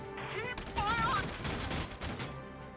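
Gunfire from a turret battle in the game Valkyria Chronicles 4, a rattling burst of shots under a voice calling out, with music-like tones in the mix.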